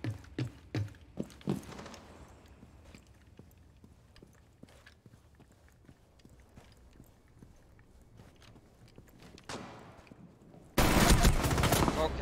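Gunfire in a first-person shooter (Rainbow Six Siege style) rattles through a steady run of sharp shots and clicks, with a burst early on and a sudden loud, dense blast of sustained fire at the end.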